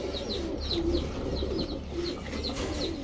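Several Indian Benaras pigeons coo, a pair sitting on eggs among them, soft low repeated calls close by over a steady hum of background noise.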